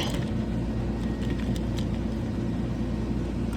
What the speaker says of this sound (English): this is running, these are direct leads into the compressor